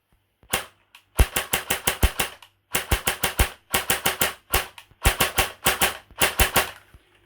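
An airsoft DMR rifle locked to semi-auto firing rapidly, sharp close cracks in quick bursts of four to six shots separated by short pauses, loud and alone.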